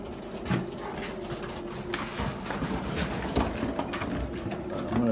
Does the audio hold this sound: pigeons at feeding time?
yes